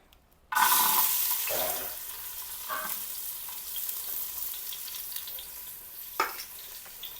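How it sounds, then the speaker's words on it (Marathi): Chopped onions hit hot oil in a pot over a wood-fired stove and crackle into a steady, close sizzle, with a few brief stirring clatters. "तेल थोडंसं गरम झाल्यावरती कांदा टाकूया।"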